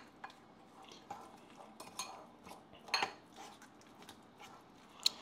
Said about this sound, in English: I'm taking the spork and I am pressing down